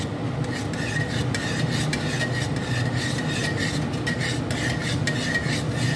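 Beef white keema cooks with yogurt in a pan over a low flame while being stirred, giving a continuous scraping and rasping of a utensil against the pan at close range, steady and without talk.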